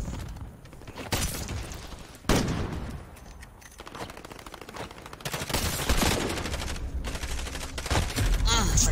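Gunfire from a video game weapon set to single fire, sharp separate shots at an irregular pace amid game effects, with a player's voice heard at times.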